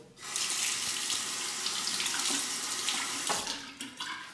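A bathroom tap runs steadily while a Parker 60R razor is rinsed under it. The water makes a loud, close hiss that keeps going for several seconds, with small splashes and clinks near the end.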